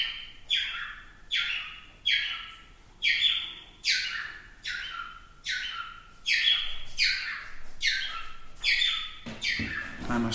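A pet bird chirps in a steady series of about nine bright, close calls, each a quick rising chirp with short gaps between, clear and alone with no talking.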